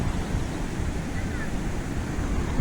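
The overflowing Shetrunji river at Palitana, swollen after dam gates were opened, roars as a constant broadband rush of water, blended with wind buffeting the microphone.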